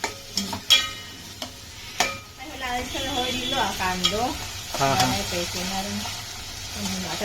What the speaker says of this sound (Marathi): दोन कांदे दोन टोमॅटो मस्त पैकी भाजून घ्यायचे